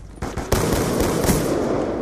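Rapid automatic gunfire from Call of Duty: Black Ops 2 gameplay rattles continuously for about two seconds, dense and loud with a few separate shots leading in.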